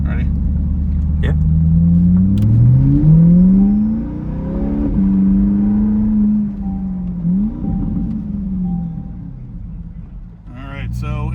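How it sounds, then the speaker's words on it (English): A C8 Corvette E-Ray fitted with an AWE Track exhaust rumbles loudly and revs through downshifts, its engine note rising and falling in several sweeps over a steady low drone, with a brief sharper burst near the end. "It'll give you the crackles and burbles and pops."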